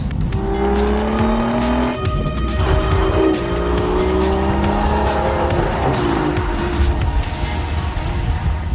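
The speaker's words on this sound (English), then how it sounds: "This is a V12 Vantage S, and for the first time, it's got a manual gearbox." Aston Martin V12 Vantage S with manual gearbox, its V12 engine revving and shifting through gears at speed while the tires squeal, loud and close for the whole stretch.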